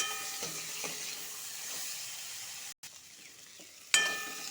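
Small diced potatoes with salt and turmeric frying in a pan, a steady soft sizzle with a brief dropout and a sharper crackle near the end; no talking.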